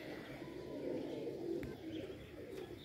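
A breeding pair of pigeons, a red male with its female, coos softly and continuously at close range, a low murmuring drone with no voices.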